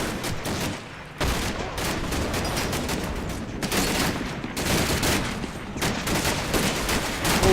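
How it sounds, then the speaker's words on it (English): Dense World War II gunfire from the Combat Mission Battle for Normandy game rattles on continuously, with overlapping rifle and machine-gun bursts and heavier cracks, loud and sustained with no talk. "And a real nasty firefight started here"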